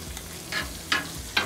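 Butter-topped filet mignon sizzles on a Blackstone griddle, a steady hiss broken by three brief, louder bursts of crackling spaced roughly half a second apart, close and alone.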